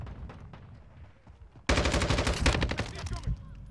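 A pistol fires in Call of Duty: Modern Warfare II, a sudden loud burst of rapid close-range shots following quieter game noise, ringing out for over a second before tapering.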